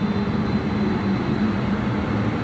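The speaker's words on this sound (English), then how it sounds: "So here's a train coming down." Edmonton LRT light-rail train passing through the station, a steady broadband rumble and rail roar, moderately loud and continuous for the whole moment with no talk.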